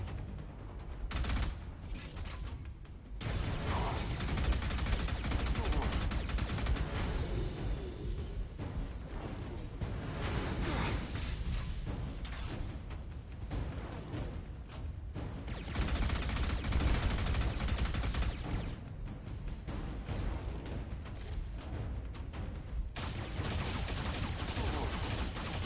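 Sustained video game gunfire in Alien Rage Unlimited, loud dense bursts of rapid automatic shots and heavy blasts that run almost continuously, broken by a few short gaps.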